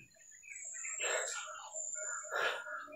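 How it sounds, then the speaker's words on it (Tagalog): Two harsh crow calls ring out about a second apart, fairly close, over a steady high electronic whine. "Mayroong uwak pa nakasunod sa amin."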